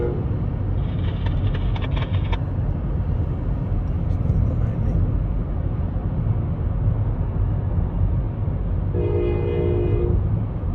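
A heavy Brightline passenger train rumbles steadily past nearby in Cocoa, Florida, while its horn blares in two separate blasts, one early and one near the end.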